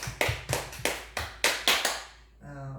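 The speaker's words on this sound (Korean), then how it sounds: "성령 하나님께 감사의 박수 올려드리시겠습니다." Several sharp hand claps or taps from a church congregation in a Sunday worship service, about eight distinct strikes at a fairly steady rhythm, close and loud, ending with a brief voice or tone afterward.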